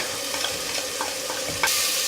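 Masala spices with turmeric, red chili, salan masala and salt fry and sizzle in oil in a pan for beef korma, a steady crackling hiss with scraping stirs and brief wet bursts, close and alone with no talk.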